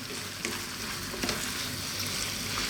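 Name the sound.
creamy bell pepper pasta heating in a pan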